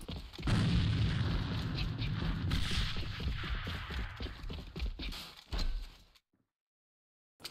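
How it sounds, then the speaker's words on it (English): A grenade blast in the online shooter A.V.A lands early as a loud, heavy boom, followed by scattered smaller impacts and game sounds that fade before a short silence. "See, this is the nade by Hench."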